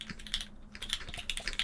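Rapid typing on a computer keyboard, with a quick, steady run of close key clicks and no voices.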